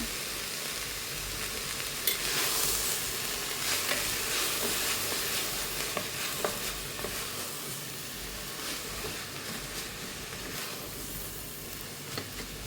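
Egg curry masala sautéing in a pressure cooker, giving a steady frying sizzle with occasional stirring scrapes. It runs continuous and fairly close, with no voices.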